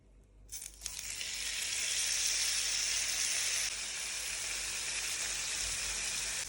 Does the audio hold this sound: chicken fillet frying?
yes